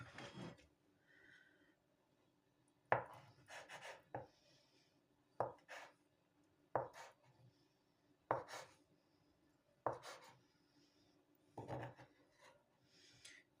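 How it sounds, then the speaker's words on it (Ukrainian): A knife cutting through eggs for a salad, making a series of distinct, crisp chops on a board, about ten strokes spaced roughly a second apart, close and quiet with no talk. "Так, тепер яйця поріжемо"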